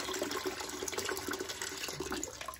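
Water rushes out of the low water cut-off on a home steam boiler, a MacDonald 67, as it is flushed: a continuous close gush and splashing that tapers off slightly near the end.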